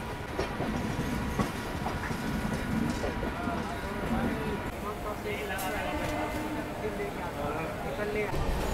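Darjeeling Mail passenger train pulling out of Sealdah station, a steady close rumble of wheels and carriage noise with faint clattering, heard from inside a crowded general-class coach as voices chatter throughout.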